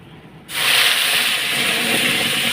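A sudden loud sizzle erupts as spice paste hits hot oil, then settles into a steady, hissing fry that fills the rest of the clip.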